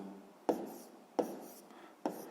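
Pen on paper while working out a sixth-grade math solution: three short, soft scratching strokes about two-thirds of a second apart, close and faint in a quiet room.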